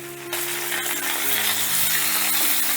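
Ginger paste, slit green chillies, cumin powder and red chilli powder frying in a pan for a lauer dal dish, a steady close sizzle with faint scraping of stirring and a few light metallic clinks, no voices.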